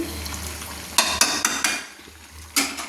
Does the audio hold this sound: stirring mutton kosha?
yes